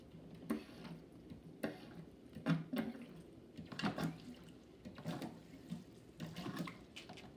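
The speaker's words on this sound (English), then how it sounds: "adding some water in the corner, hopefully we can get the siphon to go again" Water is poured into the corner of an aquarium tank to restart a siphon, giving a run of irregular splashing and trickling pulses, close and moderately quiet, with no talk.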